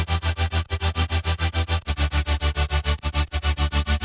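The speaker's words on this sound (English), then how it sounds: "I bounced my drop synths into one audio file that sounds like this" A loud electronic synth drop from a melodic color bass track, with thick chords pumping in a fast, regular rhythm, each hit ducking and swelling with heavy low bass underneath.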